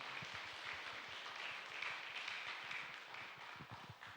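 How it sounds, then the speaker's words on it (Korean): Members of a Korean Presbyterian congregation at Gunsan Haesung Church clap for newly baptized members during Sunday worship, a soft, steady patter of many hands spread across a large room. "우리 박수로 축하하겠습니다."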